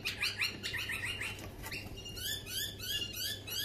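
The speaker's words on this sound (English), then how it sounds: "butcher birds, these little ones." Small butcher birds call with rapid, high, squeaky chirps in quick bursts, close by, first a fast chattering run, then a pause and a second series of spaced, bright notes over a low background hum.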